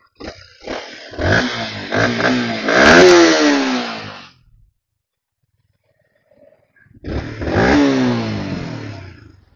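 A 2024 Yamaha MT-15 motorcycle engine starts and revs hard in rising, roaring bursts, drops to silence, then revs again, loud and close.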